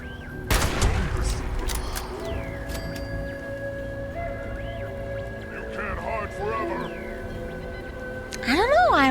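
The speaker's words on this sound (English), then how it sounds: "Can I shoot him through here?" Gunfire in the Fallout 76 video game: a sharp loud burst early on, then quieter scattered shots and game noise, with another burst near the end.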